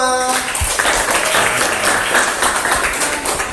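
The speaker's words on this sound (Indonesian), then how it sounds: "tepuk tangan untuk kita semua" Students in a classroom clap together after the teacher asks for applause, a dense, steady patter of many hands filling a few seconds at moderate loudness.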